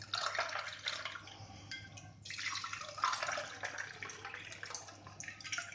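Basil seeds are stirred through water in a jar, giving soft, irregular liquid swishing and light dripping splashes close by, with a faint low hum underneath.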